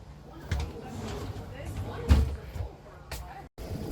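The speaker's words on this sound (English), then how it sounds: "These doors have a magnetic holder, and they'll just close." RV closet doors with magnetic holders swing shut, giving two soft thuds about a second and a half apart, amid people talking inside the RV.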